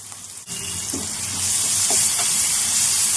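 Ginger frying for a fish roe curry hisses loudly and steadily in a hot pan, the sizzle rising after a sharp start and holding, with a few faint stirring clicks, close and without talk.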